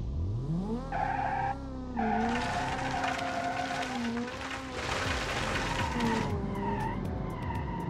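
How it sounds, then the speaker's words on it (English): A 300 HP lawnmower with heavy 950 kg build, drifting in BeamNG.Drive, its tires squealing and skidding continuously over a loud, revving engine note that rises and falls across several power slides. "with these tires, yes, it can power slide, it can drift a little bit"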